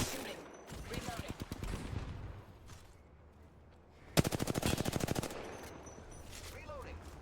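Assault rifle fire in Apex Legends: two rapid automatic bursts of evenly spaced, punchy shots, the second louder and closer, with quieter game ambience and a brief voice between them.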